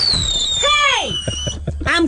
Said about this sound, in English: you get the same result from fireworks